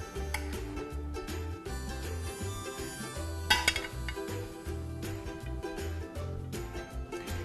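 Lemon herb roasted chicken being moved onto a serving plate, with light clinks and scrapes of utensils and dishware, one sharper clatter midway, over a steady rhythmic background.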